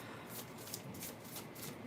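Tarot cards being shuffled by hand, a steady papery riffling and rustling that runs on for a couple of seconds with soft repeated flutters and no voices.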